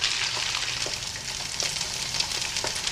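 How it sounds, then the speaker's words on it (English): Eggs fry in a frying pan with a dense, continuous sizzle and crackle, close and steady, with faint scraping underneath. "Looks like a frying pan and some eggs to me."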